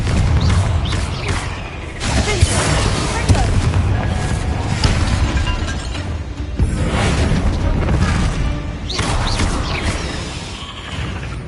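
Fiery spell blasts from the Hogwarts Legacy video game on PS5, loud booming explosions rolling over a constant heavy rumble, with several distinct bursts spread through the stretch and a voice speaking at times over the din.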